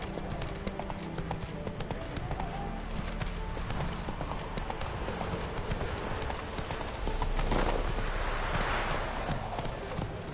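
Hoofbeats of a galloping horse in The Witcher 3, a rapid steady clip-clop carried under game ambience and wind, with a surge of rushing noise near the end.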